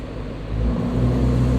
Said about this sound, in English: And then ready, listen when I rev it.